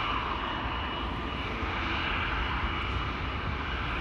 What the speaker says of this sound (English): KLM flight 873 to Hyderabad,